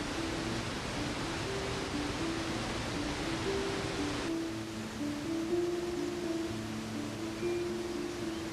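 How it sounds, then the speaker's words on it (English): Rushing water of the Rhine Falls at Schaffhausen, Switzerland, heard as a broad, steady roar of hissing spray that stays constant and alone throughout, with a few faint tonal hums beneath it. "The rushing sound of water"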